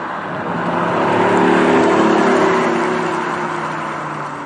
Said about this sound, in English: It sounds like a nice V8.